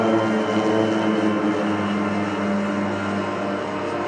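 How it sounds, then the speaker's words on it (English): A Swiss-built Pilatus PC-7 turboprop trainer flying at an airshow, with a steady loud propeller drone holding even throughout, slightly fading toward the end. "They will now pull up their landing gear and fly in the normal aerobatic configuration."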